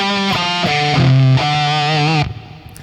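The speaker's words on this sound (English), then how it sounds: "let's see how it reacts to pinch harmonic techniques" Pinch harmonics on an Abt Guitars Capricorn electric guitar with a distorted rock tone and reverb: squealing sustained notes that shift pitch, then trail off into a reverb tail.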